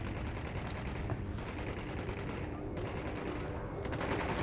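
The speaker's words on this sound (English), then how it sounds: "Opening fire on these fuckers." Gunfire in the 2017 PC game Tom Clancy's Ghost Recon Wildlands, dense and continuous, with rapid rattling bursts layered over a heavy, loud wash of battle noise.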